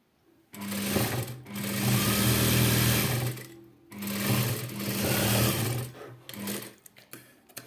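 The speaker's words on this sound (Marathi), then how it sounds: "आता ही रेषा आपण जी ओढलेली आहे त्याच्यावर बरोबर टीप टाकून घ्यायचं ती मेन टीप असणार आहे" A sewing machine runs in two long bursts, stitching a blouse seam with a steady mechanical whir and hum, broken by a short pause and ending with a few brief stitches.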